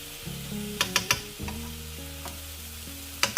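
Desi ghee sizzling through pumpkin halwa as it is stirred in a pan, a continuous close frying hiss with a low tonal hum and several quick spoon scrapes and clinks.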